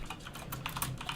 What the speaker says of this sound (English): because it's picking up my keyboard a bit